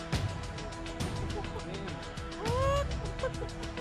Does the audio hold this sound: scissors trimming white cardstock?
no